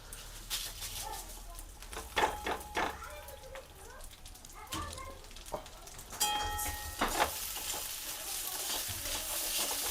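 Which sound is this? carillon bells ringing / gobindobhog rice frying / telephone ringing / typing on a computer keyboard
gobindobhog rice frying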